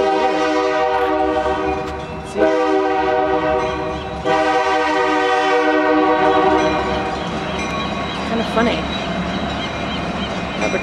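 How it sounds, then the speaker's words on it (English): A train horn blares in long sustained blasts over the rumble of rolling rail cars running down a city street at Jack London Square, loud and close, with a short break between horn sounds. "this train just runs right through"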